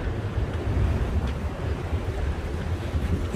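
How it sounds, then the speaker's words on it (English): Waves wash at a marina in Kuwait, a steady low churn of water under gusty wind buffeting the microphone, with no distinct individual breakers. "Marina waves."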